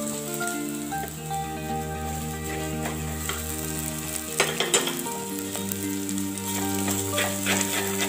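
Onion masala for a Kerala-style avoli fish curry with kudampuli fries in a pan, giving a steady sizzle with a few sharper scraping clicks from stirring midway. A sustained tonal hum sits underneath, and there is no talking.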